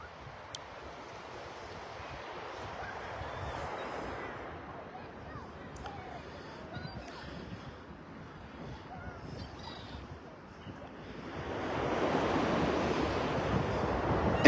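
Sea waves washing around a swimmer submerged to the neck in the ocean, a steady churning wash that swells louder toward the end, with wind buffeting the microphone.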